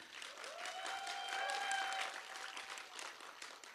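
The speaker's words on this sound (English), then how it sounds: "Let's give them one final round of applause," An audience at a FameLab science festival event in Astana applauds steadily for several seconds, a dense, even wash of clapping with a few voices underneath.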